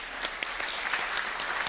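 Brief audience applause at a plenary session, a short steady patter of clapping from a moderately sized crowd, heard alone.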